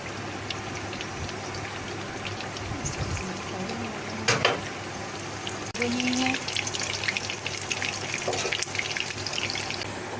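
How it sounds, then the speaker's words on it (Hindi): Shami kabab frying in ghee over low heat makes a steady, close bubbling crackle that runs throughout, with a brief louder sputter midway and a few sharper pops later. "इसको हल्की आंच पे हमें फ्राई करना है"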